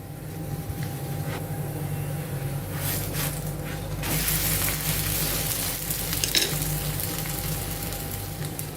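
Upma pesarattu, a green gram crepe with upma filling, sizzles steadily in oil on a hot pan, a constant frying hiss that swells louder as it is flipped.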